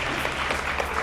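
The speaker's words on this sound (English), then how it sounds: "I want you to give a round of applause for yourself." Audience applause at a spiritual motivational talk, a short dense burst of many hands clapping in a room, with a low hum underneath.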